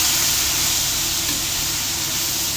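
Tomato sautéing in a pan for tomato egg drop soup gives off a steady, loud hiss and sizzle that holds unbroken throughout, with no voices.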